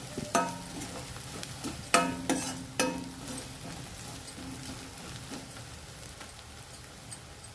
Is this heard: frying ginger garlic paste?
yes